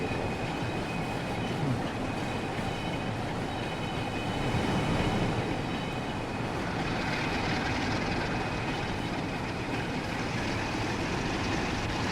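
A ScotRail train in Train Sim World 4 rolls at steady speed on the line to Blackpool, a constant broad rumble of wheels and traction with a faint high whine, heard from the cab without talk.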